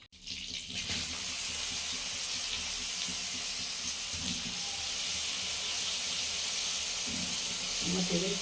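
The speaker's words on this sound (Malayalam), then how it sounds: "നമുക്കിതിട്ട് ചെറിയ രീതിയിലൊന്ന് ഫ്രൈ ചെയ്തെടുക്കാം." Onions fry in butter in a pan, a loud continuous sizzling hiss that starts abruptly and holds steady, with a faint voice near the end.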